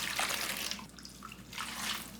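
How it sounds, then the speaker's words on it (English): Water poured by hand onto potted plants during plant care, a near, splashy gush in two bursts with a brief lull between them, no voices. "I'm just putting them flat and putting some water on it"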